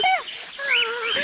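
Pet birds chirping at home, a few short bright rising calls over about a second, close and fairly loud, with a sustained whistled note near the end.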